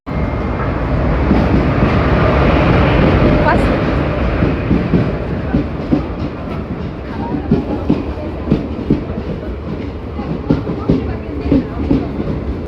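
A train rumbles past close by, loud and continuous, with rhythmic clacking of wheels over the rail joints running through the whole pass.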